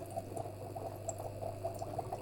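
A small aquarium air pump pushes air through a hose into a container of water soaking vegetable seeds, giving a soft, steady stream of rapid bubbling under a low electrical hum.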